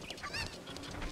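Chickens cluck and squawk in Zelda Ocarina of Time, a cluster of short, nasal game-bird calls repeating close and fairly loud over a low background, with no talk.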